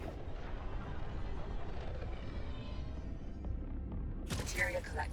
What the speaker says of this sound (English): All I can use is the fragment cannon up front.